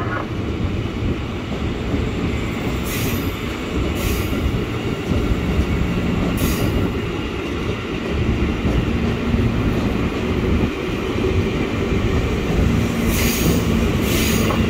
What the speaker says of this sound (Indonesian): Jalur 5 dipersiapkan masuk KRL